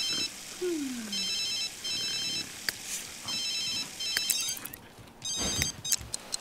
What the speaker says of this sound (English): She's sleeping right through her phone.